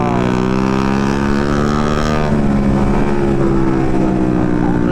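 A Honda CBR motorcycle riding ahead on a Jakarta street, its shrill, high-pitched engine and exhaust droning loudly and steadily under wind noise, the pitch shifting as it revs.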